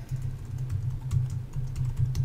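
Fingers type on a computer keyboard in quick, uneven bursts of close clicking keystrokes, with a low hum steady underneath.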